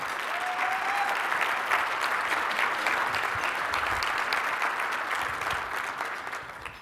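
An audience at a lunch event claps steadily for a newly introduced chief development officer, a dense, even wash of applause that holds throughout with a faint tone briefly above it.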